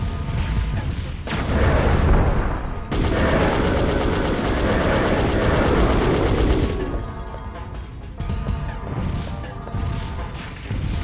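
Gunfire in a retro video game, loud bursts of rapid crashing shots that fill most of the stretch with a brief lull, and no talk.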